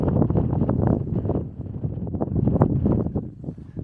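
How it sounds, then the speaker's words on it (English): Strong wind gusting at a tent campsite beside a mushroom rock, a loud, continuous rumbling buffet across the microphone with no talk over it. "It's definitely windier now than when I first arrived"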